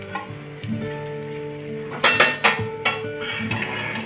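A potato cheese omelet flipped in a pan over low heat, with soft sizzling and a few sharp clatters of a plate and pan against each other, loud and close.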